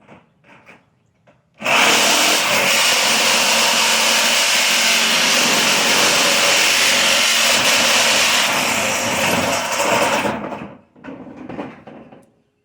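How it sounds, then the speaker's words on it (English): Loud, harsh whine of a scroll saw cutting sheet metal, running steadily for about nine seconds before stopping, with faint voices before and after. "now I'm going to bring it over here and cut it with a scroll saw"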